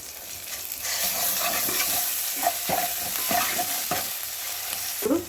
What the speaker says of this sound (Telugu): అదే ఆయిల్లో ఉల్లిపాయలు పచ్చిమిర్చి వేసి లవంగాలు ఇలాచి బిర్యానీ ఆకు అల్లం వెల్లుల్లి పేస్ట్